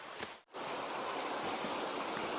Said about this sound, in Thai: มองดูลำธารข้างล่าง น้ำไหล ใสสะอาดเย็น